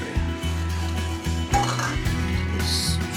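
Meatball mixture being mixed by hand in a bowl, a steady wet squelching and kneading close up with occasional light knocks against the bowl, and no talking.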